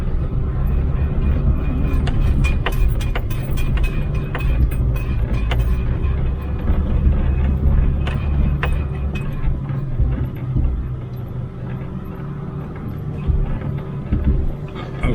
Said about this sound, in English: This is hard on my truck.